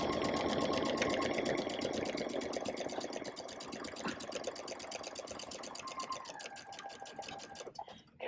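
Sewing machine running steadily through a quarter-inch seam on quilt fabric, a continuous close, even mechanical whir with fine rapid stitching ticks that slows and stops near the end.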